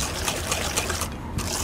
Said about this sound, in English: I'll whisk this up really good